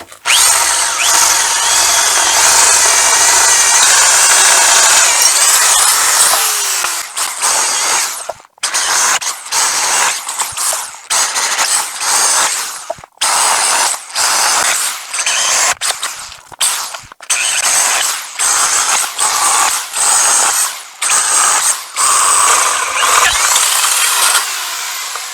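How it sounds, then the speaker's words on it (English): A 1/2 inch DeWalt drill bores holes through a washing machine drum. A loud, steady grinding whine runs for several seconds, then breaks into a series of short, close drilling bursts separated by brief pauses. "since we have this nice 1/2 inch DeWalt drill. We're going to use this one."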